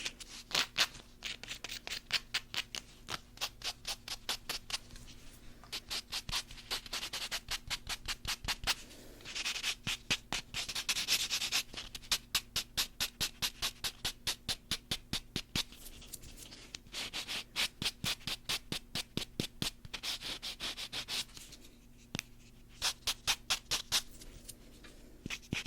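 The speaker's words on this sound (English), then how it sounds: "Just gonna do a little bit of filing." A nail file rasps steadily across fingernails, close and quiet, in rapid rhythmic strokes that come in bursts with short pauses, and no talking is heard.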